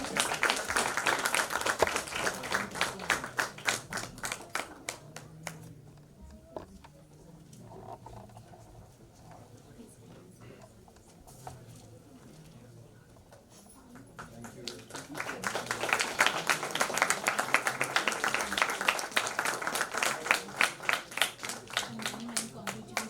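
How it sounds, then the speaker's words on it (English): Audience applause at a book launch, a dense clapping burst for the first five seconds that drops away to quieter room sound, then swells back into loud sustained clapping from about fifteen seconds to the end. "Kindly give a huge round of applause for him."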